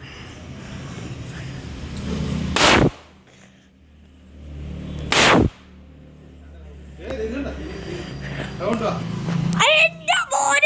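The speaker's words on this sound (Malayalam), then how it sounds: "അപ്പൊ നമുക്ക് കാണാം പടക്കം പൊട്ടിക്കല്" Two loud, sharp firecracker blasts go off a few seconds apart during a Vishu celebration, each a sudden crack followed by quieter background, with people talking afterward.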